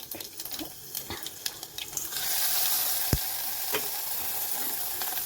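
Chilli powder, salt, turmeric, ajwain and clove powders hit hot oil with browned garlic for a quick tomato saaru: a few stirring taps, then a steady close sizzle that swells and carries on loudly, with no voices.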